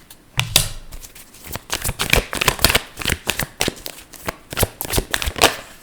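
Tarot cards shuffled by hand, a quick run of crisp riffling and slapping bursts repeating steadily at close range, with no voice over them.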